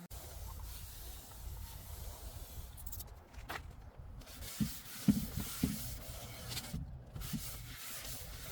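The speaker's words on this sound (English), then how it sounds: "give it a good scuff sand with an 80 grit sandpaper" An old school desk gets a scuff sanding with 80 grit sandpaper, a steady rough hissing rub that runs close and continuous with brief pauses and a few louder scrapes near the end.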